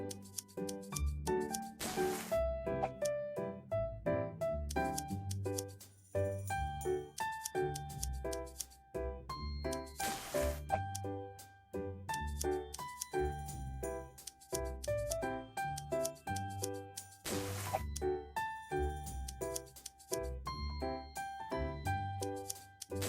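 Fabric details being cut out in a sewing dress-up video game, repeated crisp snipping cues with bright chimes over a looping, tinkling game melody, moderately quiet and without talk.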